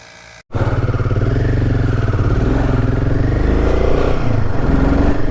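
A motorcycle engine on a mountain road between Kargil and Leh catches after a brief quiet moment, then runs loud and close with a steady, throbbing chug.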